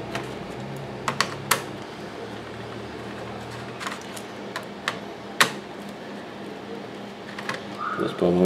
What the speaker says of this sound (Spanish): Vamos a retirar los tornillos de la parte superior.